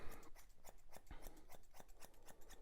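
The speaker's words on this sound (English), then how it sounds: "gently scissor over it, blending down into your foot with the straight scissors" Straight scissors snip through an English Cocker Spaniel's fur around the foot in quick, crisp, evenly spaced cuts, close and quiet, about a dozen snips in a steady rhythm.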